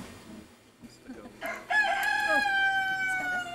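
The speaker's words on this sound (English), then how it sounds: "Could you shut that bloody cockerel?" A cockerel crowing near the River Douro, one long, loud, drawn-out crow close by after some quieter clucking and background noise, with no talk over it.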